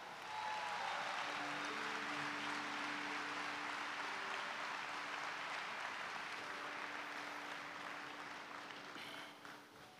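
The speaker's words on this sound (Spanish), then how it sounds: "Dale el aplauso." A church congregation breaks into sustained applause, a dense wash of clapping that fills the room for about ten seconds and tapers slightly near the end, with faint voices and musical tones underneath.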